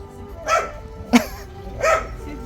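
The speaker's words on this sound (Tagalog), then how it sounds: "Ay, may aso kayo." A dog barks three times in short, spaced bursts in an outdoor family setting in Senegal, the barks loud and close with a faint whimpering quality.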